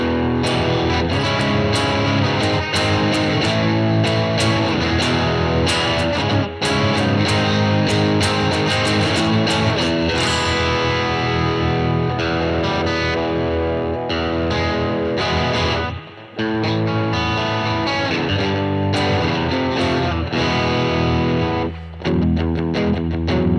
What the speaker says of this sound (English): now let's hear how it sounds with overdrive